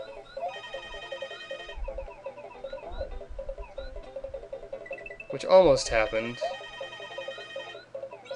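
An in-game telephone ringing in Super Mario World, a repeating electronic ring tone over chiptune music, with a person talking over it and a louder burst of game sound near the middle.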